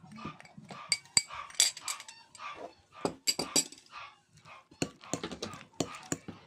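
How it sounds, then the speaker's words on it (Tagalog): A hungry pet dog in a home kitchen yelps and barks in sharp, irregular bursts, close by, mixed with the clink of utensils against a bowl during food preparation. "pasensya naman ang ingay ng aso namin."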